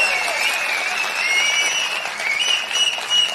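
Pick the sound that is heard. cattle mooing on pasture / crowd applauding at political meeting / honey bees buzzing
crowd applauding at political meeting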